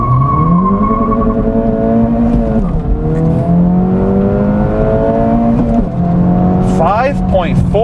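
A 2024 Acura Integra Type S pulls away with traction control off, its engine droning and rising through several gear changes with a sharp squeal near the end, loud and close.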